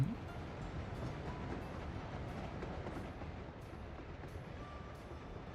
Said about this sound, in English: So we're just going to follow the construction train